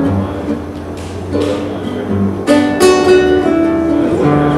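Live performance of a song from a new solo album: sustained, full-bodied music with a steady tone and chords shifting every second or so, growing brighter and louder midway.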